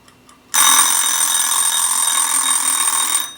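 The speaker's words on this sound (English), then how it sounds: "The bell rang." Kikkerland kitty cat kitchen timer going off: after a faint tick, its bell bursts into a loud, continuous metallic ring that holds steady for about three seconds before cutting off.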